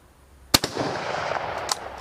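A single sharp, loud shot from a military surplus rifle at an outdoor range cracks out close by, then echoes and rumbles away, followed by a fainter click or second crack.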